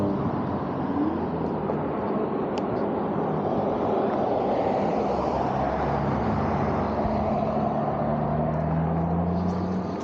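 Cars pass on a road one after another in a continuous steady wash of tyre and engine noise, heard from the roadside with no clear gaps between vehicles.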